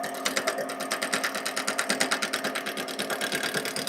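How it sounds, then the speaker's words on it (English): Wooden carving mallet spinning on a lathe at slow speed while a roughing gouge cuts it, giving a steady rhythmic chatter of rapid repeated ticks over a continuous motor drone. "I'm using a roughing gouge"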